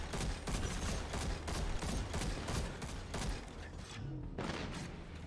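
Scout rifle firing in Destiny 2 during a Legend-difficulty solo run of the Skydock IV lost sector, with dense rapid shots, game effects and explosions packed together at steady loudness throughout.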